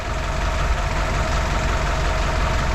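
A rebuilt engine in a classic Willys truck idles steadily, a loud, even low rumble with a faint knocking texture, running alone with no talk.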